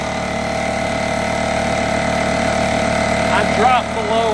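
A Bostitch pancake air compressor motor runs with a steady, droning hum close by, and a voice speaks briefly near the end.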